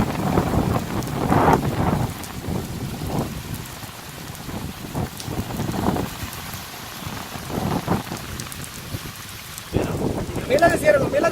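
Heavy rain lashes down with strong gusting wind during an outdoor storm at a cooking spot, a dense continuous roar that swells and eases in waves, with voices faintly under the downpour.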